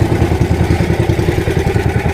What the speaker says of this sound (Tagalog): Palyado yung makina natin.